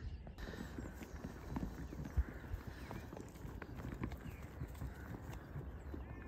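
Sheep gobbling feed nuts in a spring field, a busy patter of munching and shuffling close by under outdoor ambience, with no voices.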